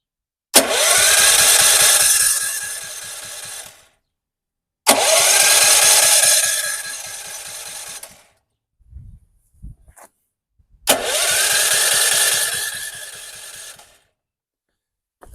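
A DuraMax XP4400EH generator engine cranks on its electric starter in three loud, rhythmic bursts of several seconds each, with brief mechanical clunks in the pauses but no catch.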